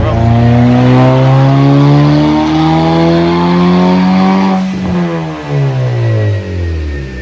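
A 2006–2011 Honda Civic with an R18 engine revs hard on a dyno, climbing in a long loud pull, dipping briefly, then rising again. It sounds very close and continuous.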